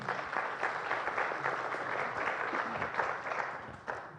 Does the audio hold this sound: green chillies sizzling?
no